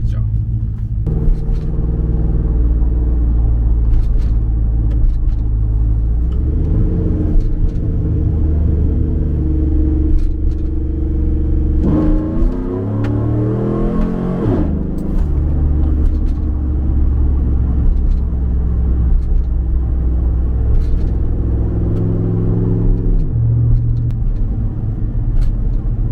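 A Chevrolet Silverado truck engine while driving, a steady loud low rumble that rises and shifts in pitch midway as it accelerates, with a voice talking over it.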